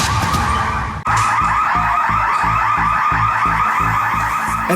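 An animal shelter building's fire alarm blares continuously, a harsh electronic pulsing tone with a steady rhythmic beat, briefly dipping near the start before resuming at full loudness, with no talking.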